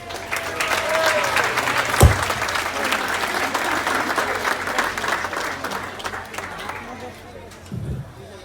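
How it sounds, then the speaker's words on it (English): A comedy club audience applauds a comedian with sustained, dense clapping and some cheering, loud and close throughout, with a sharp thump partway through. "Let's give a round of applause for Taylor Amarante."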